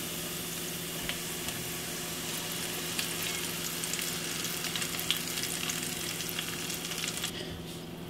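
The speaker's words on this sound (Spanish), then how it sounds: "Ahora sí le vamos a echar aquí los frijoles para que se guisen." Black beans sizzle in a pan with already-cooked onion, a steady soft crackle and hiss that holds at an even level throughout with no talking.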